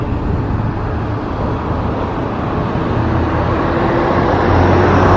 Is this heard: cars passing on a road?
yes